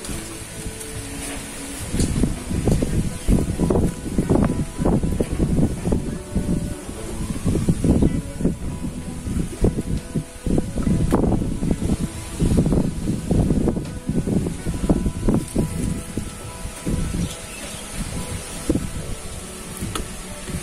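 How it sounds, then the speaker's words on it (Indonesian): Strong outdoor wind gusts in irregular rushes and buffets against the microphone, loud and close, rising and falling over about twenty seconds with no talking. "karena cuacanya berangin, angin kencang."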